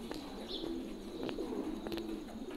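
A pigeon sick with respiratory disease gives a faint, breathy coo with a few soft short calls over a quiet background hiss.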